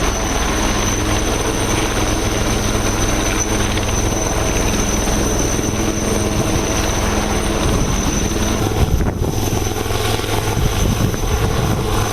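A coast guard helicopter drones steadily over a beach during a security drill, with a constant, loud rotor and engine hum that fills the whole stretch without letup.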